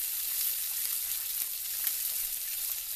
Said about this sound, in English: I'm going to go ahead and heat that tri-tip up. So I'm going to place it in the same pan. It's a little hot